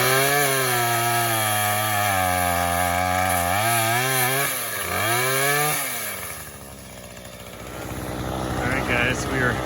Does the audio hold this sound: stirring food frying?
no